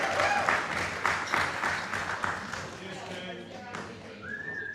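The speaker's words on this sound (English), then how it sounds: "Let's give them a round of applause." An audience at an awards dinner claps in a dense burst that fades over a few seconds, a faint whistle rising near the end.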